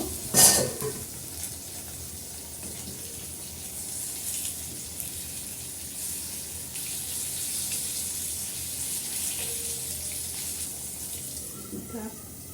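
Slices of ash gourd fry in a covered pan over low heat, giving a steady soft sizzle that runs throughout, opening with a brief clatter and ending with faint utensil clinks.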